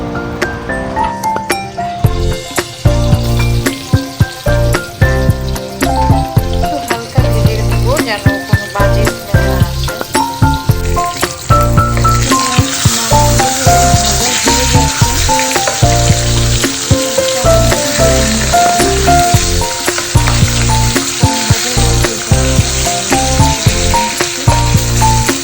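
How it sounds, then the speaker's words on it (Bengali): Turmeric and salt coated fish frying in hot oil, a loud, steady sizzle running throughout and growing denser partway through, with tonal background sounds layered underneath. "এটা আমি হালকা করে একটু ভাজা দিয়ে নিব। হচ্ছে মাছগুলো দিয়ে দিচ্ছি।"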